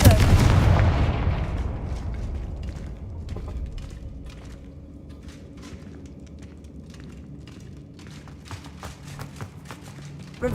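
A Confringo fireball explodes in Hogwarts Legacy with a loud, close boom right at the start that decays over a couple of seconds, followed by quieter scattered clicks and thuds.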